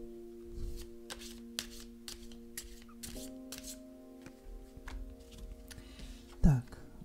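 Deck of Angels of Stellar Avalon oracle cards being shuffled, a close riffle of soft repeated flicks and taps over a steady background hum, ending in one louder handling thump.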